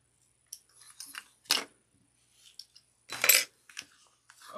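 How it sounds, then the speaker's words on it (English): Scissors snipping sewing threads after back stitching, a few quick close metallic clips and small handling rustles in a quiet room. "Trim those threads."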